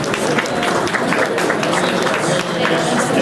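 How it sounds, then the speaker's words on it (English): Guests at a Big Brother Big Sisters NYC honoree dinner break into loud, sustained applause, a thick continuous wash of clapping from a large crowd. "Can we give them a round of applause?"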